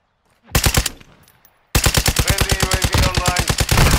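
Rapid automatic gunfire from Call of Duty multiplayer on PS5: a short loud burst, a brief pause, then a long sustained stream of closely spaced shots, loud and close with no talk.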